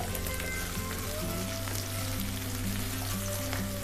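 Capsicum and green chillies sauté in a pan for a pineapple chicken dish, a dense, continuous sizzle and crackle heard up close and alone, with no talking.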